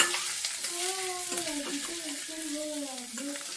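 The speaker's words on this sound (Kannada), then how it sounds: "ಮೊಟ್ಟೆ ಹಾಕಿ ಸ್ವಲ್ಪ ನಿಮಗೆ ಫ್ರೈ ಮಾಡ್ಕೋಬೇಕು." Eggs sizzling and frying in a pan with onions while being stirred, a steady close hiss with a faint tonal hum running underneath, no talk.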